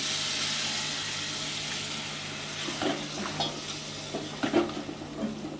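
A little water goes into chicken kasha frying in a pan, and the hiss turns into a steady, softer bubbling sizzle. A few utensil scrapes and clinks follow near the end, with no talking.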